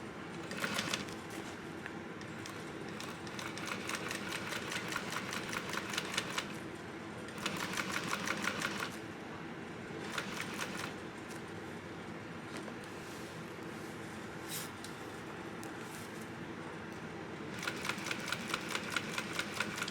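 Leather being top stitched on a sewing machine at a long stitch length, 1/8 inch from the edge, for a bucket backpack: rapid rhythmic needle clatter in several bursts with short pauses, close and steady.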